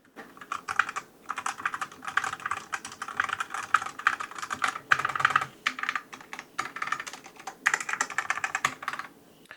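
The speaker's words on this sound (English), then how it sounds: "a wired keyboard. So the keys look okay. They sound like this." Clacky keys of a wired Lenovo K510 Mini Pro mechanical keyboard are typed in quick bursts, the rapid clicking close and crisp, with short pauses between runs.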